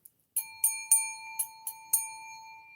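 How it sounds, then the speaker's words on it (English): A bell strikes six times in an irregular rhythm, each clear ring sustaining a steady tone that carries under the later strikes; one of the middle rings lands weaker than the rest. No voices are heard. "The bell. It was the fourth ring that didn't hit quite right."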